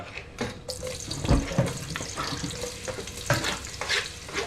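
Onions fry in hot oil in a home kitchen, crackling close by, with scraping stir strokes and splashy, watery bursts rising and falling over a few seconds.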